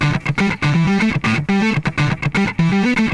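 A distorted guitar plucks a bouncy, repeating bass-line melody in short choppy notes, loud and close, with no talking.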